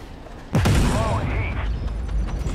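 A tank main gun fires in the armored combat game Armored Warfare, a single loud close blast with a rolling mechanical tail that carries on for a couple of seconds.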